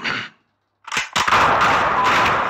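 Gunshots ring out at an indoor shooting range inside a bunker: a short burst, a pause, then two sharp cracks around the one-second mark that run into a loud, sustained stretch of firing and echo.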